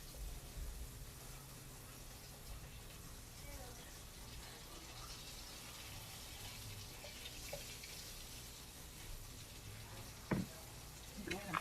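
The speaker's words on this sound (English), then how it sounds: "I'm going to fry the sausage." Smoked sausage fries in a deep, large pan with a steady, low sizzle, close and moderately quiet, and a brief clunk near the end.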